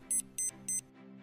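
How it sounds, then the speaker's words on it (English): A FINIS Tempo Trainer Pro pacing device gives three short, sharp electronic beeps about one per second, loud and close over a faint background hum. "it will give you one beep every second"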